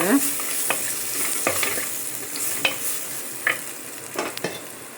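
Onion fries in a pan on a gas stove over medium flame, giving a steady close sizzle broken by repeated scraping stir strokes from a spatula.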